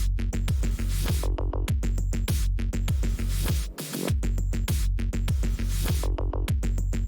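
A synthwave track played as part of a DJ mix, with a steady pumping kick beat, driving bass and bright synth layers, loud and continuous, briefly dropping out near the middle before the beat returns.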